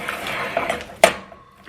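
A spoon scrapes and clinks against a pot while stirring a thick peanut butter or chocolate fudge mixture, with soft scraping and one sharp metallic knock near the end.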